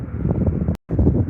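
Wind gusting outdoors at London Heathrow Airport near Terminal 5, a steady low rushing roar buffeting the microphone, broken by one brief dropout before the blustery noise resumes.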